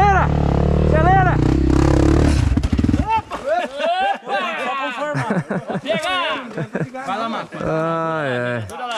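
A dirt bike engine drones loudly and close during a trail ride near Mantena, Minas Gerais. After about two seconds it drops away, and excited voices talk and chuckle.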